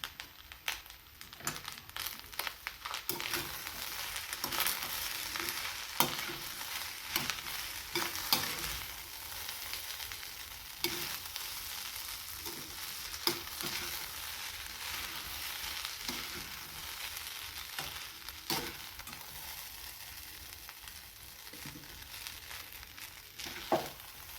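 Egg rice with plenty of fresh coriander being stirred in a frying pan, a steady soft sizzle broken by repeated scraping and clinking strokes of the spoon, close and fairly quiet, with no talking.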